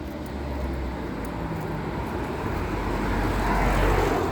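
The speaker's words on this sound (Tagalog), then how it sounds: "may dumadaan lang mga sasakyan dito" Vehicles passing along a very dark roadside at night, a steady broad traffic rumble that swells slightly toward the end, with no speech.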